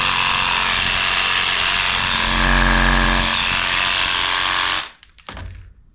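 A Shakemaster 4000 paint can shaker, a welded steel unit, rattling a can of paint with a loud continuous mechanical buzz and vibration for about five seconds before it switches off.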